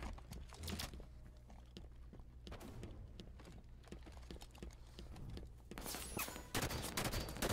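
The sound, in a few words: gunfire in the video game Halo 5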